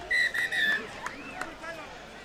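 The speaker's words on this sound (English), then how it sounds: "So the referee blows the whistle" Referee's whistle at a rugby league international between Papua New Guinea and Australia in 2013, a few sharp, shrill blasts close to the microphone over faint stadium crowd murmur.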